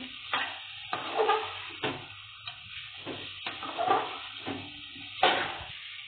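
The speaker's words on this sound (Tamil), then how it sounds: "இப்போ நாங்கள் வந்து சௌச்சௌ முள்ளங்கி காயை சேர்த்துக்கிறோம். நம்ம அப்படியே கிளறி விட்டுக்கலாம்." Chow chow and radish stirred into sautéed onions in a pan for sambar, a soft sizzle broken by a series of scraping, clacking spatula strokes at an irregular rhythm, close by with no voices.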